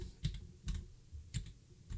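Typing on a computer keyboard, four quick clusters of close key clicks spaced about half a second apart, crisp and alone with no voices.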